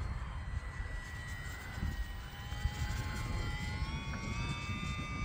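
An E-flite UMX Pitts S-1S RC plane flies with its throttle being reduced, giving a faint, steady motor whine with a slowly falling pitch over a rumble of outdoor wind.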